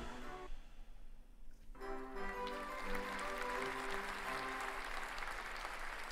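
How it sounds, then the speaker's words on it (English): Steady applause from a crowd in the video game Sucker for Love builds after a brief lull and continues evenly, with faint music-like tones underneath. "Hold your applause, please."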